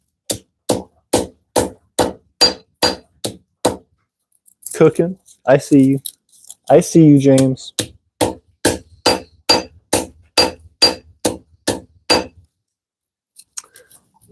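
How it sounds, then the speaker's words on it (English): A hammer strikes steel on an anvil in a steady, ringing rhythm, pausing while people talk, then the evenly spaced blows resume. "bring the hammer up, then like gravity, bring it down"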